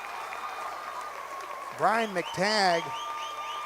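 Basketball crowd in a gym cheering and applauding after a dunk cuts the deficit to four, a swell of noise under a commentator's voice.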